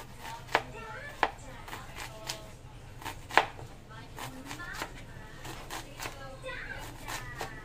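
A knife chops onion finely on a board, a series of sharp, irregular knocks, some loud and close, with a soft voice and background chatter running underneath.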